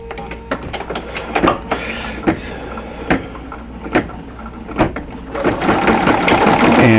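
A computerized embroidery machine stitches a stocking design, its needle producing a steady mechanical rattle punctuated by sharp clicks and knocks, growing into a continuous busy whir toward the end.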